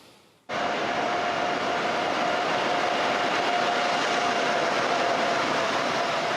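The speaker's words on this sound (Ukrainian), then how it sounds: "На перон столичного вокзалу прибуває особливий потяг Genius Експрес." A train rolls in with a loud, steady rumble and a thin, high brake whine held throughout; no voices.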